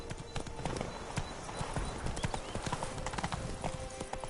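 Roach the horse gallops in The Witcher 3, hooves clip-clopping in a quick, steady rhythm close by, with a brief whinny mixed into the busy game soundscape.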